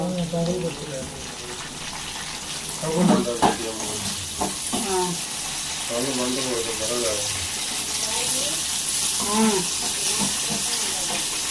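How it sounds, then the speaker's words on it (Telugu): Tempering of seeds, dal and mustard sizzling in hot oil, a steady frying hiss that runs throughout under intermittent conversation. "తాలింపు పెట్టుకొని ఇంకా తాలింపు గింజలు పప్పు ఆవాలి వేసా"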